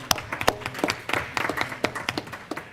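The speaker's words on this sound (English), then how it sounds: "I think that deserves a round of applause." Scattered audience clapping at a school board meeting honoring a student EMT, with distinct individual claps at moderate distance rather than a dense roar, fairly quiet overall.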